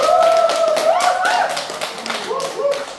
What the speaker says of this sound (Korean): 우리 사부자님들께 한번 감사의 박수를 보내고 시작하도록 하겠습니다